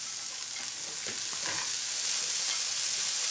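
Chopped potato and carrot fry in oil tempered with black cumin and dried chili, a loud, steady close hiss and crackle with a few soft stirring scrapes underneath.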